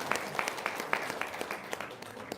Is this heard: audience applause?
yes